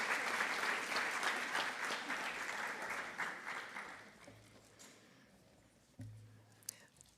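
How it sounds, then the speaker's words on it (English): An audience claps at a school recognition celebration, loud dense applause at first that gradually fades and thins to scattered claps, with a few faint voices near the end. "You can continue applauding, thank you so much, thank you so much."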